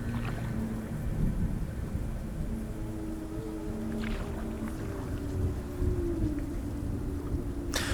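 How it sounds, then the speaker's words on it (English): Rumbling thunder and steady rain from the video game Hellblade form a dense, continuous storm backdrop, with low rolling rumbles and brief crackles near the end and no talking. "you can hear the thunder, you can hear the background noises a lot better"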